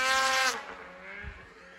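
Polaris 600RS snowmobile engine revving hard while held stopped for a wheelie, a loud rising high-pitched whine that cuts off abruptly after half a second, followed by a lower fading rumble and a brief thump.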